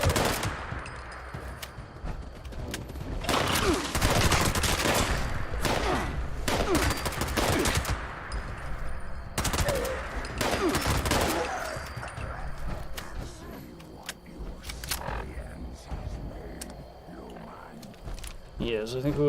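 Bursts of automatic gunfire in Fallout 76, repeated loud clusters of shots spread over the stretch with quieter gaps between, while a voice talks over the action.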